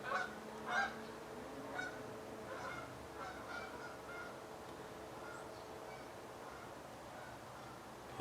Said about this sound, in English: I have geese in my backyard.